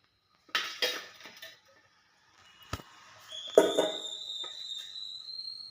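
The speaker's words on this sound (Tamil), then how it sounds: "இப்போ நம்ம கேக்கை வேற ஒரு பிளேட்டில் கவுத்திக்கலாம்." A homemade wheat flour cake turned out of its tin onto a plate, with a few soft knocks and a clear clink of the plate, followed by a rising whistle-like tone in a quiet kitchen.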